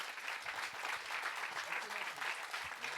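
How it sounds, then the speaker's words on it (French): Steady audience applause for a performer named Clara at a musical theatre studio show for Marilyn Le Musical, a dense even patter of many hands holding at constant moderate level through the whole stretch. "On peut applaudir bien fort Clara."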